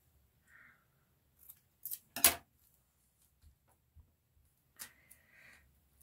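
Scissors snipping paper during papercraft work, a few sharp, separate close-up cuts spaced across a quiet stretch, one crisp snip louder than the rest.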